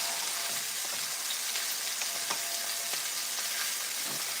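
Steak frying in a skillet, giving a steady close sizzle with scattered pops and crackles of grease, and no voices.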